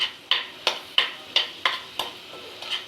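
Coconut, cumin and garlic cloves dry roasting in a pan, with a run of eight sharp, regular scraping strokes of a spatula over a faint underlying sizzle.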